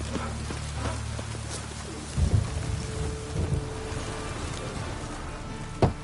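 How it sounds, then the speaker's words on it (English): Steady rain hisses throughout in the video game Witcher 3, with low rumbles of thunder rolling in around the middle and a sharp crack near the end. "it's raining again"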